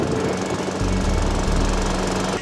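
An Al-Ko petrol lawn mower with a primer and an overhead-valve engine is pull-started. After a brief rustle it catches within a second and runs loud and close, with a rapid chugging rumble and no talking.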